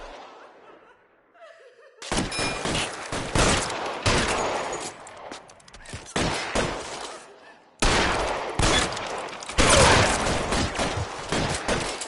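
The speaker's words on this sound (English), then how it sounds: "I'll lay down some suppression fire." Gunfire in the video game LA Noire during a shootout with suppression fire, dense bursts of rapid shots in two long loud stretches separated by a short lull.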